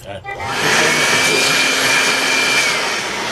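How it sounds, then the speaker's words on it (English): An ENZOO cordless electric air blower whirs steadily and loudly after a brief spin-up, a broad, even rush of air with a faint whine throughout. "It's definitely a blower."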